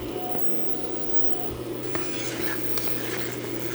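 Anchovies in bubbling sugar syrup are stir-fried in a pan over high heat, a soft steady sizzle with scattered utensil scrapes and taps against the pan.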